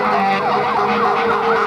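Emergency vehicle sirens wail continuously through a night scene on Detroit's east side during Devil's Night fires, a loud, steady rising-and-falling tone with traffic noise underneath.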